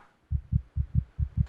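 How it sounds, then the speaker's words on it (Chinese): A loud, deep heartbeat thumps steadily in a comedy sketch, six evenly spaced beats, close and heavy, with no talking over it. "是你的心跳声吧？"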